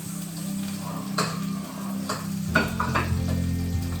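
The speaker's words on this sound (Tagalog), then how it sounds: "Ilalagay ko na naman tong sibuyas." Onion added to a hot pan and frying, a steady sizzle with a few clinks and stirring scrapes of a utensil against the pan partway through, close and fairly quiet.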